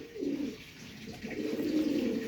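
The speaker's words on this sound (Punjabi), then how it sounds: "ਉੱਡਣ ਵਾਲੇ ਕਬੂਤਰ ਆ ਬਾਈ ਇਹ ਸਾਰੇ" Flying pigeons, recently released and restless, give low rolling coos in two drawn-out bursts, fairly close and alone without speech.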